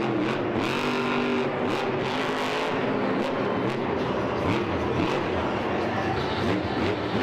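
Team Gravedigger monster truck engine roaring through a freestyle run, a dense, continuous loud rumble mixed with crowd and arena noise, with repeated surges and crashes and no clear voices.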